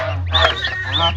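Ducklings give high, reedy calls in two short bursts, close and fairly loud, with no talking.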